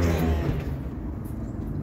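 Road traffic outside a post office, a continuous low rumble of passing cars with a vehicle engine swelling slightly, steady and fairly loud with no clear talk.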